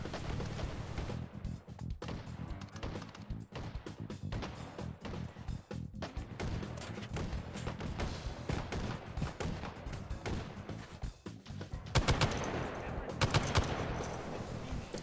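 M60 machine gun fired in the VR shooter game H3VR, loud bursts of automatic gunfire repeating through the whole stretch, with heavier volleys near the end.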